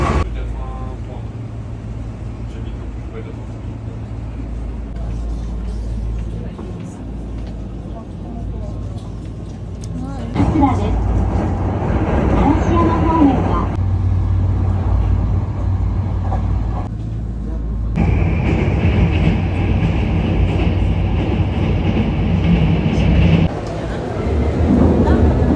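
Forward-facing seats inside the Kyo-Train, a garden-decorated sightseeing train in Osaka, carry a steady low rumble of the carriage in motion; the rumble grows louder and busier partway through, with chatter of passengers in the cabin.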